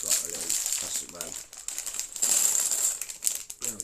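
A small plastic bag from a Lego Star Wars V-19 Torrent Starfighter set is crinkled close to the microphone in bursts, with someone speaking between the rustles.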